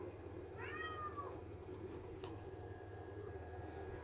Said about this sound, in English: Kitty Puss, Kitty Puss